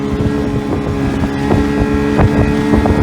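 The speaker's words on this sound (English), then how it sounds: "There's two ski boats over there." Steady drone of ski boat engines across open water on Folsom Lake, with a rumbling low hum and wind buffeting the microphone.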